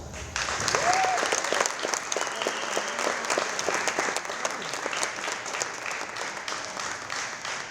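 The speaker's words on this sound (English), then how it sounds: "Let's give them all another round of applause." Crowd applause in a high school gym honoring seniors at a boys volleyball match, sharp individual claps standing out of a steady ovation that stays moderately loud and gradually thins, with faint voices in the room.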